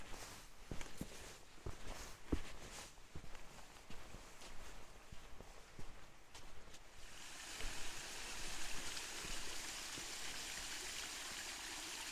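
A stream runs beside a hiking track in Grampians National Park, first heard under crunching footsteps on the trail, then as a steady rushing of water that grows fuller once the walking stops.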